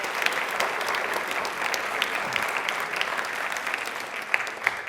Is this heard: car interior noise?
no